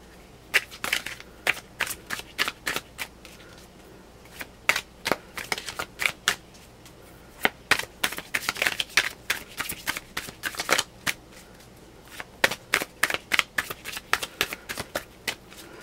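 Tarot cards are shuffled in quick riffling bursts, a crisp flutter of snaps repeated again and again with short pauses between, close and fairly quiet.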